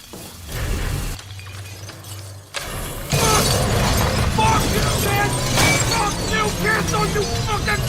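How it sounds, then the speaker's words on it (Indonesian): Man falling into a glass crushing machine in a film scene: a loud, sustained burst of shattering and grinding glass after a short lead-in of background noise and voices. "Billy secara tidak sengaja jatuh ke dalam mesin penghancur kaca"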